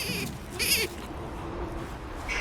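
Goats bleat in a barn, two or three short wavering cries near the start and a brief one at the end, set against a steady noisy background.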